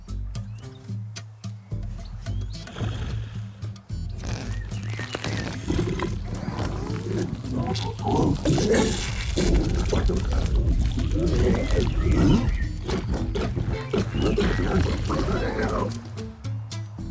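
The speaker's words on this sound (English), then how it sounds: "The pig's stomach made an almighty sound." A loud, deep, guttural rumbling growl of a pig's stomach in a video game rolls on for many seconds, swelling and churning with a throaty, animal-like roar.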